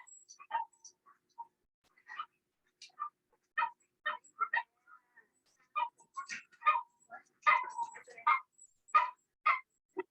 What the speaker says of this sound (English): if my cat heard a dog whining like that, she would bounce off the walls.